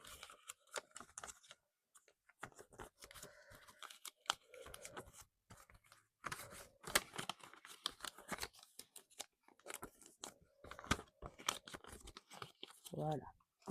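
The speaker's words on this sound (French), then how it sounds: "Donc, je remplis rapidement l'enveloppe." Cash banknotes are pushed into a paper budget envelope with brisk crinkling, rustling and tearing-like paper sounds that come in short bursts, close and fairly quiet, with a voice talking intermittently alongside.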